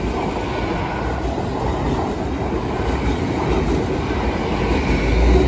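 A Class 800 train passes a level crossing at Sincil Bank with a loud, close, continuous rumble and rattle of wheels on rail that builds slightly toward the end.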